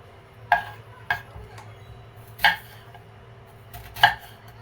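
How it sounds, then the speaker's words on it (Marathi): A knife chops through firm, tender raw mango on a board, four sharp separate cuts with irregular gaps, close and crisp against a quiet room hum. "बघा अशी कैरी कापून घ्यायची"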